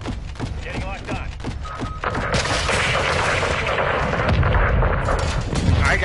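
Mortar and gunfire in Call of Duty: Modern Warfare II (2022) campaign, a dense run of heavy booms and thuds with a continuous roar of battle that swells louder halfway through, with a voice talking over the combat.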